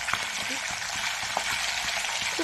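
Silver carp fish pieces frying lightly in hot oil, a continuous close sizzle and crackle with faint stirring underneath.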